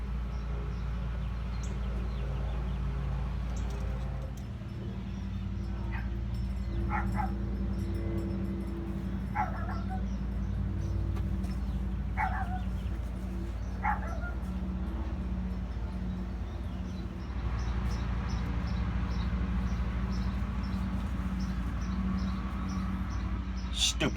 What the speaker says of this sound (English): Stupid dog barking at everybody.